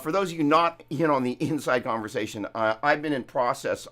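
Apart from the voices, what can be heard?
No everyday noise stands out behind the speech.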